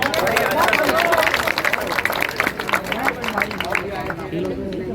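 An audience at a Ramlila rehearsal claps steadily over crowd chatter, with a voice speaking through the applause.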